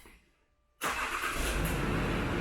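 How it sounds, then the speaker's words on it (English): A Range Rover Sport L320 starts after a brief quiet pause. The engine catches abruptly and settles into a loud, steady idle close by, with no talking. "So if you start the car,"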